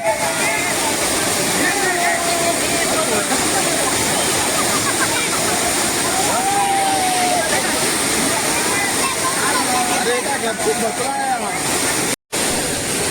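Sound of the Savdav waterfall near Kankavli: a steady, loud roar of rushing, splashing water fills the whole stretch without pause, with a voice faintly underneath and a brief dropout near the end.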